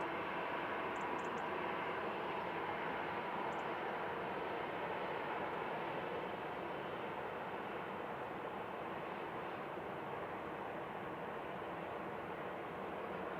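A Jet2 Boeing 737-800 airliner at Manchester Airport, a faint, steady distant engine roar that holds evenly throughout with no talking.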